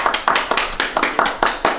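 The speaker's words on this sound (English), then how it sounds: "Bravo, clap. Bravo, round of applause." One person claps hands in a steady, even rhythm, about eight sharp, close claps in under two seconds with nothing else heard.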